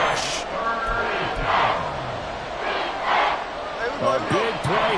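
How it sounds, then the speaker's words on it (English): In the Madden 24 football video game, stadium crowd noise swells in waves during a late two-minute drill, with a commentator's voice heard over the roar. "A big play here as the crowd noise rises."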